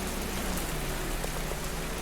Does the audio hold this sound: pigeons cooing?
no